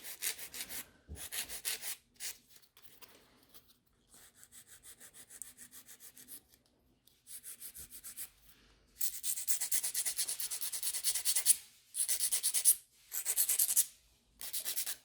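A nail file scrapes in short, repeated bursts across gel nails, the gritty rubbing strokes close and fairly quiet with brief pauses between sets.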